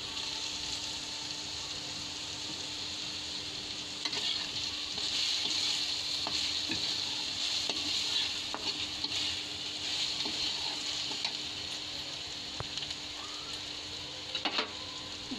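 Spice masala fries until golden for a jackfruit curry, giving a soft, continuous sizzle. Occasional light clicks and spatters sound close by, with no one talking.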